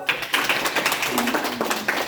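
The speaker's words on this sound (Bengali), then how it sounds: "সবাই একসাথে একটা হাততালি দাও।" Students clap together for a teacher's birthday, a burst of quick, scattered claps that keeps going unevenly through the short stretch, fairly loud and close.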